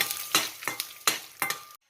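A spoon scrapes a pan in about five quick, rhythmic strokes as fenugreek and coriander seeds dry-roast on the stove. The stirring is close, with no talk, and it stops abruptly.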